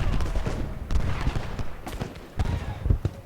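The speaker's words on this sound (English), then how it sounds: "Let's see if we can get the shell shot firing on Iron Brigade." Cannons firing shell shot on a Civil War battlefield at Gettysburg in Ultimate General Gettysburg, a series of irregular booming volleys and cracks, some close together, loud and continuous over rumbling battle noise.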